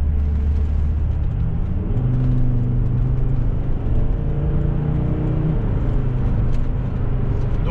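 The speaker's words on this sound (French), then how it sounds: "Donc la boîte de vitesse mouline pas mal." A Volvo XC90 D5 diesel SUV accelerates hard from inside the cabin, its automatic gearbox holding revs as the engine drones and climbs in pitch, then a gear change drops it, a loud continuous rumble.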